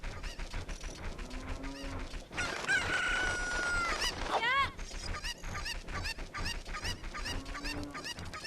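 Chickens in the Ocarina of Time video game crow and cluck loudly and repeatedly, a rooster's rising cock-a-doodle-doo standing out mid-clip over busy game sounds and music.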